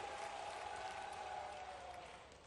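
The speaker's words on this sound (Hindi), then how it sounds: "जोरदार ताली बजाओ" An audience at a public stage event honouring Devi Ahilyabai claps in a steady, dense wash of applause that stays faint and distant, then tapers off slightly at the end.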